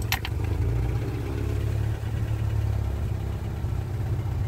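A 1986 VAZ 21013 engine idles steadily at close range, a low continuous rumble with an even rhythm and a couple of brief clicks at the start, no voices present.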